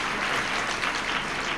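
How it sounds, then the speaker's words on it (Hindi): An audience at a spiritual discourse claps in a dense, steady burst of applause that fills the whole brief moment without any speech. "आप तो ताली बजाओ"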